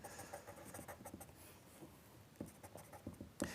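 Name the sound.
pastel pencil drawing on paper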